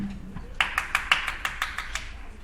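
A lone person claps at an orchestra concert, roughly nine close, crisp claps in a loose, uneven rhythm over about a second and a half, with a faint low hum before the first clap.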